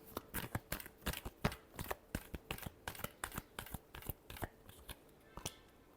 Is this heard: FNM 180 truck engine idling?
no